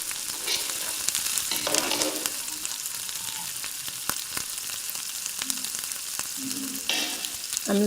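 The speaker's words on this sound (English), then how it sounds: "I'm literally stirring it up to mix our ingredients, our tomato and our pepper" Tomato and pepper spaghetti sauce bubbles in a pot while a spoon stirs it, making close, continuous simmering and sizzling with occasional scrapes and taps against the pot.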